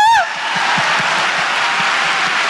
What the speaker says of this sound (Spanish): Dale, dale ese aplauso.